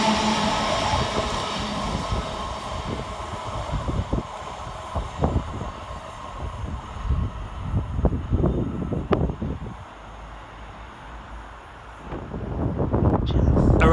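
A London Northwestern electric passenger train rumbles past Sandwell and Dudley station with rhythmic clatters of wheels over rail joints, wind buffeting the microphone, then the roar swells again at the end.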